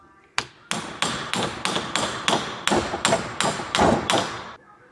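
Someone hammers a part clamped in a vise, about a dozen sharp metallic blows landing close up in a steady, even rhythm, each ringing briefly before the next.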